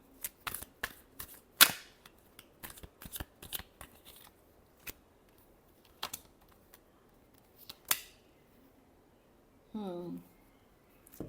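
A deck of tarot cards is shuffled in sharp, irregular snaps and riffles, close and crisp with quiet gaps between bursts, ending in a brief buzzing rattle.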